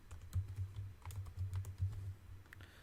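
Quiet, close typing on a computer keyboard: a quick run of soft key taps in an uneven rhythm, entering a title.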